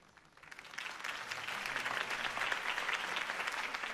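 Crowd applauding a campaign speech, clapping swelling from quiet to a sustained, dense ovation that holds steady to the end.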